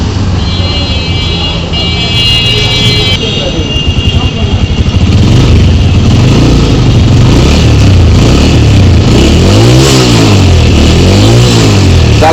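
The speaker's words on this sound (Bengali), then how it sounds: "বাইকটা এখন একটু টেস্ট ড্রাইভ দিব।" A Sky Way 125cc motorcycle converted into a cafe racer starts up and revs, its engine note climbing and falling in repeated loud swells up close, with other traffic and voices around it.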